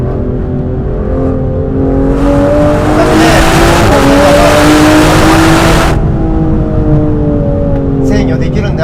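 A 2025 Aston Martin Vanquish drives a winding road, its engine note climbing and easing through gear changes with a rev-matched downshift, a steady near drone that briefly swells louder mid-way.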